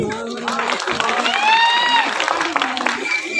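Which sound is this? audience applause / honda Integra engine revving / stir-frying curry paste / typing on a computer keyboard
audience applause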